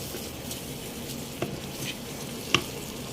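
Whole spices and two bay leaves fry in oil in a pan for a Bengali beef curry, giving a steady low sizzle with a couple of brief scraping stirs.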